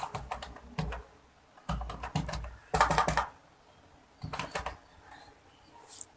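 Computer keyboard keys tapped in quick bursts while a word is entered into a spreadsheet cell, close and crisp, separated by short pauses, with no voices.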